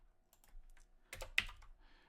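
Quick, light bursts of typing on a computer keyboard, a few close, crisp keystrokes in short clusters with near-silence between them and no voices.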